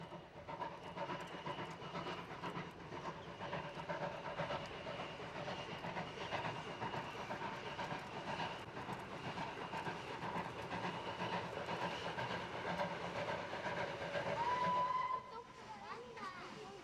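A working steam locomotive rumbles along with rhythmic chuffing and rail clatter, then gives a clear, sustained whistle near the end before the sound eases.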